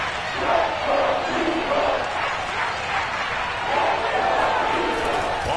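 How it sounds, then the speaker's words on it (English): A stadium crowd roars and cheers in the Madden 22 football video game, a steady, swelling mass of voices that stays loud throughout. "Crowd getting in it a bit already."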